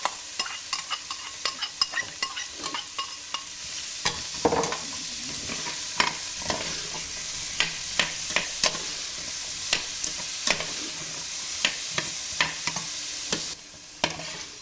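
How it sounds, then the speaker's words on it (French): Carrots and onions sautéing in oil in a pan for a pork curry, a constant bright sizzle broken by frequent clicking scrapes of a utensil against the pan, loud and close without speech. "Je vais remettre un tout petit peu d'huile. Voilà. Et je vais faire revenir mes carottes"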